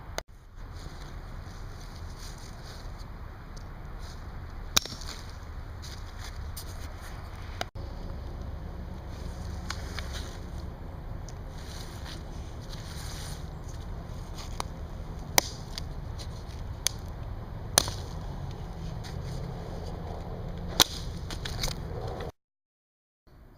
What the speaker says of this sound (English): I'm going to cut them down with my cold steel trail boss